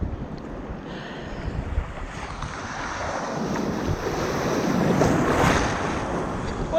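Rough sea surf breaking against rocks along a Portuguese coastline, a continuous broad wash of waves rising louder toward the end, with wind buffeting the microphone and no voices.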